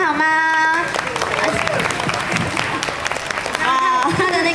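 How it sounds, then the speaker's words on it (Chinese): An audience at an anime festival stage show in Taipei claps for a Japanese folk-music act, a dense burst of applause with a voice speaking over it at the start and end. "再次给热情的掌声好吗？"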